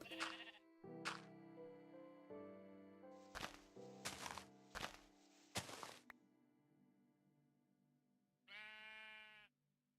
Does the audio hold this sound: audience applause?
no